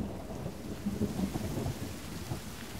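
Steady rain hisses in a forest setting in a survival game while a low rumble of thunder rolls underneath, moderately quiet and continuous.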